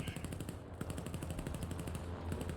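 Rapid bursts of .50 caliber machine gun fire from a P-47N fighter in the War Thunder flight game, a fast steady rattle of shots over engine drone, moderately loud.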